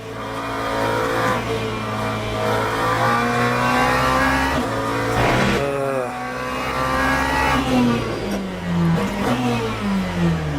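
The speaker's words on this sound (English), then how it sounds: "engine sounds loud. Okay, should I turn the engine sound down?" Car engines from a sim-racing video game: loud, sustained revving with gear shifts and rising and falling pitch, sometimes joined by tire squeal, played alone and close.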